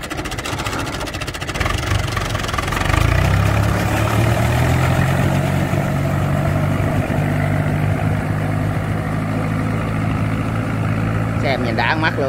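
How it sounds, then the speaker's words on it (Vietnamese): Diesel engine of an M7500 four-wheel-drive farm tractor with huge front tyres, running steadily and fairly loud at close range through the whole stretch, with a deeper drone settling in after the first few seconds and voices talking over it. "Đây là cận cảnh của chiếc máy cày M7500 đây."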